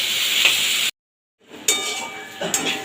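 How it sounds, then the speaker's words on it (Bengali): Drumstick leaf greens sizzle and hiss in a hot pan, cut by a short silence, then resume with soft stirring scrapes and a couple of light clinks. "আলতো হাতে হালকা হালকা নেড়ে নেড়ে ভেজে নেবো শাকটা"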